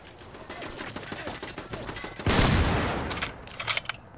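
Gunfire in Fallout 4 crackles in a rapid volley of shots, peaking in a loud blast midway before tapering into scattered mechanical clatter.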